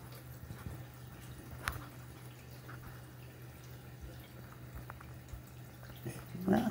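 A pet water fountain runs with a steady low pump hum and faint, scattered drips of water, close by and fairly quiet, with a few brief louder splashes near the end.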